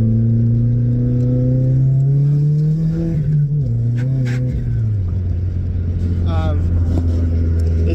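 A turbocharged 1.5 litre Toyota Starlet engine pulls hard under acceleration with a deep, throaty note, rising in pitch steadily then dropping at a gear change before building again, loud and close throughout.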